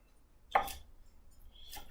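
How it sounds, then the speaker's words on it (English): Knife chopping broccoli florets on a cutting board, heard as two separate crisp strikes roughly a second apart, fairly quiet against a near-silent kitchen background. "you want to chop up these broccoli florets just a little bit, not finely"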